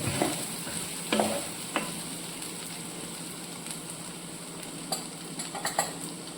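Boiling water hits a hot frying pan of sautéed spiced mixture for theeyal, giving a steady, close sizzle that runs throughout, dotted with occasional metallic clinks of a spoon against the pan.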